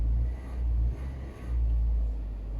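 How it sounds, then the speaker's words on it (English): A car engine rumbles low and close, dips briefly, then swells back as the throttle is blipped and settles to a steady hum. "Give it a blip on the throttle."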